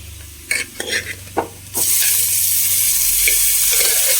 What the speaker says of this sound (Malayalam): നമുക്ക് നമ്മുടെ പപ്പായ വേവിച്ചത് ഇട്ട് കൊടുക്കാം.